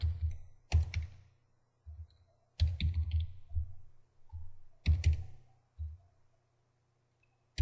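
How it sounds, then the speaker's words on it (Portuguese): A computer mouse clicks while navigating Microsoft Access, a few quiet close-up clicks in small clusters separated by pauses. "E vou clicar no botão filtrar."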